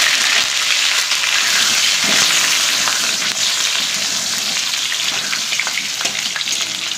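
Potatoes frying in hot oil in a kadai-style wok sizzle loudly and steadily from close by, a dense continuous crackle with no voices.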